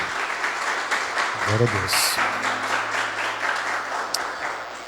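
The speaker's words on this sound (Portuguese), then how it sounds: "Dê um aplauso à palavra do Senhor" Congregation applauding in a church service, a steady wash of clapping under which a voice speaks, with a low hum running beneath.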